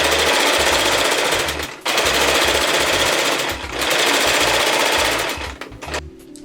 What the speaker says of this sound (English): Now I am stitching both the front and the back parts together so I can give it a little bit of a try on.